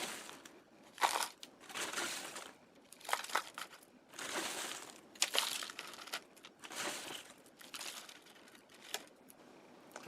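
Ice cubes being piled onto tie-dye fabric, bursts of crunching and crackling as handfuls land, roughly eight uneven clusters spread across the clip, close and moderately loud with quiet gaps between.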